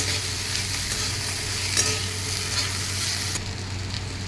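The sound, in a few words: tomatoes frying in a pan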